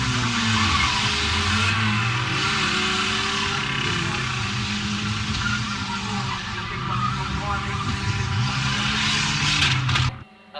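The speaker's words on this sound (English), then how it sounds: "So then Pete Richardson trying very hard in reverse gear, 652, burning some rubber here" A banger racing car spins its tyres while reversing hard on a dirt oval, a long rough engine roar with squealing, scrabbling wheels and other cars revving around it, under a commentator's voice, ending abruptly.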